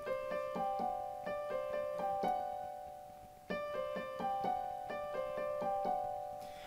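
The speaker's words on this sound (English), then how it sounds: "you're going to be playing this piano fill," Piano fill from a song, played solo: two matching phrases of bright struck notes and chords, each note ringing clearly, with a brief gap before the repeat.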